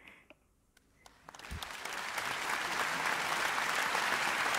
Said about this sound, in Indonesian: Ada yang tepuk tangan, tapi suaranya banyak banget.